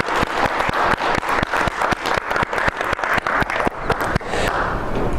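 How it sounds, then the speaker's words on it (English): Audience applause closing an academic event on writing and publishing, with a few near, sharp individual claps standing out in a regular rhythm over a wider crowd clapping. "let's have a round of applause"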